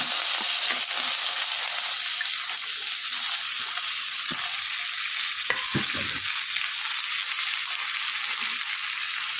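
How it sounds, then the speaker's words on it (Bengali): Potatoes fry in hot oil in a wok with a constant loud sizzle, broken by a few sharp scraping clatters as they are stirred. "কড়াইতে তেল দিয়ে দিলাম। এখন আলুগুলো ভেজে নেব।"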